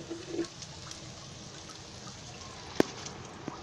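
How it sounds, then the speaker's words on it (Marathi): Hot water pours into jaggery for Marathi coconut rice, a soft, steady trickling hiss held at low volume with a single sharp clink partway through. "आता याच्यामध्ये आता हे पाणी गरम करून काढलंय ना त्याच्यामध्ये लागेल तेवढं ओतते"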